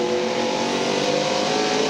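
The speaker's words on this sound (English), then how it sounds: "hear him back off the corner, back off the gas." A NASCAR stock car engine at the 1996 Tyson Holly Farms 400 drones loud and steady as the driver backs off the gas into a corner, with no voices over it.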